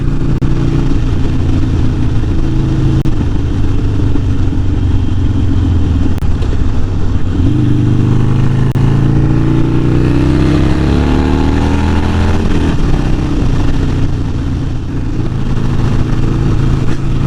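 A Harley-Davidson Sportster 48 motorcycle pulls away hard on an open road, its engine note climbing through the gears with loud, continuous wind rush throughout.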